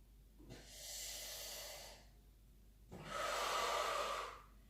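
Two slow, deep breaths drawn in during a stretching and toning workout. Each lasts over a second, with a short pause between them, close and fairly quiet and alone.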